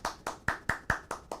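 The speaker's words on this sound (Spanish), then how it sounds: "Un aplauso, por favor" A single person in a TV studio claps in a steady, even rhythm, seven crisp claps spaced evenly and fairly close, with no crowd behind them.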